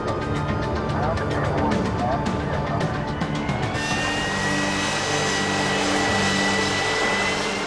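A vertical takeoff military jet with swivelling thrust nozzles roars loudly and steadily, a sustained engine blast with a shifting turbine whine, while a voice talks over it.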